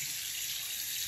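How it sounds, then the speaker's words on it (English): Tap water runs steadily into a bathroom sink as it is washed out, a close, continuous hiss of flowing water with no talking. "the next part is to wash out your sink"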